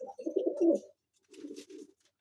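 Double-crested pigeons in an aviary give two bursts of low, rolling coos, the first longer and louder, the second shorter after a brief pause, close and clear with no talking.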